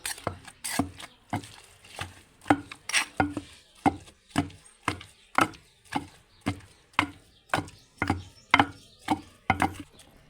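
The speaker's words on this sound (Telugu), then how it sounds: "ఇప్పుడు ఈ పచ్చిమిర్చిని కూడా రోట్లోకి ఇలా వేసుకొని రెండు కలిపి తొక్కుకోవాలి" Gongura leaves and green chillies are pounded in a stone mortar in a steady rhythm of close, solid thuds, each about half a second apart, continuing throughout with no talk.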